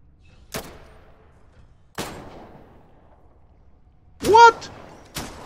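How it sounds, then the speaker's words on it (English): Kalashnikov rifle shots in a video game, four sharp separate reports spaced about a second or more apart, one followed by a brief voice. "Two guys here waiting for me to kill them. Oh, there are three. I didn't see the third one. Let's use the Kalashnikov."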